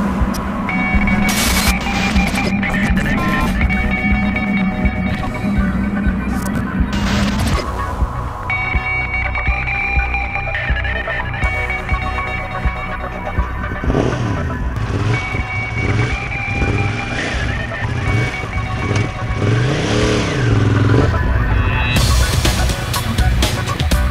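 A Ducati Monster 821 motorcycle on a test ride gives a loud, continuous engine note with revs that climb and fall through gear changes, sometimes rising to sharp, throaty pulls.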